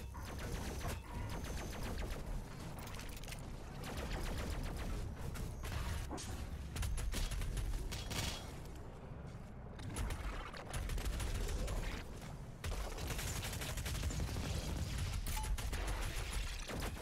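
Sustained gunfire and mechanical clatter in the video game Doom Eternal, dense rapid shots with brief lulls across the stretch, loud and busy throughout, no talking.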